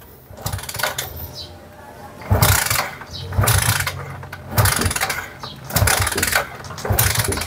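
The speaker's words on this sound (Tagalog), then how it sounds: "susubukan natin i-start yung motor. Okay? So ikikick natin kasi." Repeated kick-start attempts on a Yamaha Sniper 150 motorcycle with a faulty ignition (error 96): several loud mechanical bursts about a second apart, each a clattering kick and crank that never catches, close by.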